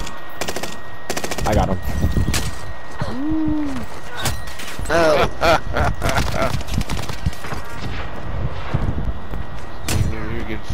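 Rapid bursts of gunfire from an overpowered gun in a video game crackle throughout, sharp repeated shots close and loud, mixed with game effects while a player talks excitedly over the action.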